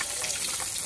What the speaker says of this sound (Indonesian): Goreng ni.